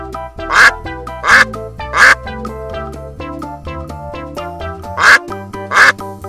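Repeated loud duck quacks come in pairs with short pauses, over a bouncy tune.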